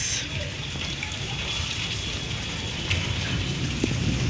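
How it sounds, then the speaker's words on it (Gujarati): Heavy monsoon rain pours steadily in Surat during flooding, a dense, even hiss of water close by with faint splashes and no clear voices. "इतनी बारिश आई आज, इतनी बारिश."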